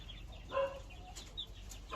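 Hens cluck in short, scattered bursts, fairly close, over a faint farmyard background with no voices.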